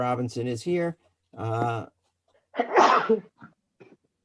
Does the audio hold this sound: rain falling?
no